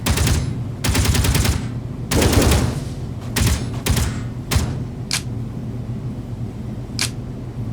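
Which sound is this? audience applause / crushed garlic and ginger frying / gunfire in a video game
gunfire in a video game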